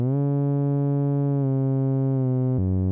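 Modular synthesizer oscillator with hard sync engaged drones a bright, buzzy harmonic-rich tone, its timbre shifting in steps partway through and jumping again near the end, with no talk.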